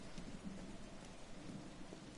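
Rain falls in a rainy outdoor scene by a building in the video game Beyond Two Souls, a faint, steady wash of drops with a low rumbling undertone throughout.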